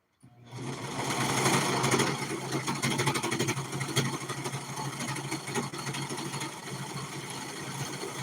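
A sewing machine runs steadily and fairly loud for several seconds, its rapid needle action forming a continuous buzzing hum after a quick start, with no talking over it.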